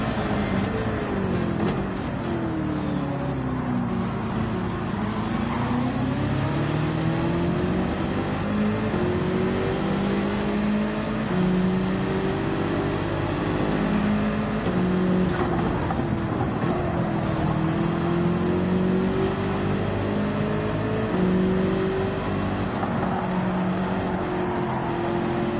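BMW race car engine in the Gran Turismo 7 racing game, loud and continuous for the whole stretch, revving up and down through gear changes with the pitch sweeping repeatedly.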